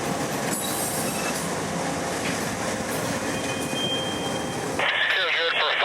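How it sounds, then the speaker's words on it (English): A model railroad train rolls along its track through a spur. It gives a continuous close rumble with wheel clatter and faint squeal, and a voice talks over it throughout. "Finally, the train enters the spur again, and now drops their entire train,"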